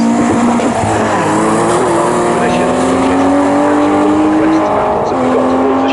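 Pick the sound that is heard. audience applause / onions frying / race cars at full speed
race cars at full speed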